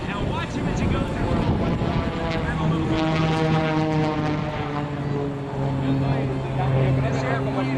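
A propeller airplane of a design dating back to 1946 flies past at an air show in Miami, its loud, steady engine drone holding throughout while the pitch of the tones slowly shifts.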